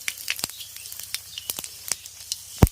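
Panch phoron and dry red chillies sizzle in hot frying oil left from frying fish-roe fritters, with scattered sharp pops and crackles over a quiet hiss, close up, no talking.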